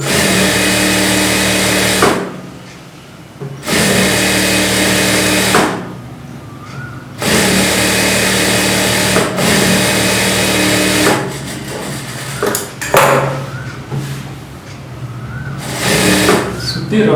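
A sewing machine stitches a blouse in several loud, steady runs of a couple of seconds each, separated by brief pauses with handling noises between them.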